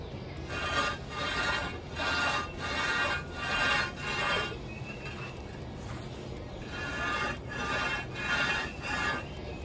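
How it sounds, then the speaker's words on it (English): A Ford Model A metal intake and exhaust manifold is scraped back and forth against rough concrete to sand it flat, in regular rasping strokes, each about a second apart, with a short pause midway. "the high parts are sanding first, and the low parts still have paint on them."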